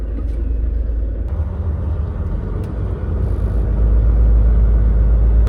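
A truck drives across farm fields with a steady, loud low engine rumble and drone that swells toward the end.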